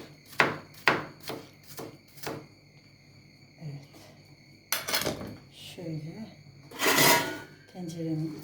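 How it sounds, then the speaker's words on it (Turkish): A knife chops a second onion on a board in a home kitchen. About half a dozen crisp, evenly spaced cuts come close up, and then a voice talks while a few louder knocks and scrapes follow. "İkinci soğanımızı da doğruyoruz."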